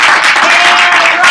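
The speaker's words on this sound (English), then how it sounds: "Big round of applause to Kathy." An audience at a business talk on aligning customer success with sales and marketing claps loudly for a short burst. The sound is dense and close, with no talking.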